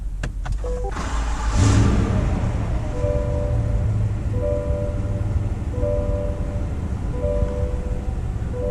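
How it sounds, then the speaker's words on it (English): A 2025 Chevrolet Tahoe High Country engine fires up with a push-button start after a brief cranking burst, then settles into a steady, fairly loud idle hum that continues to the end with no talking. "Hit the button to start the engine."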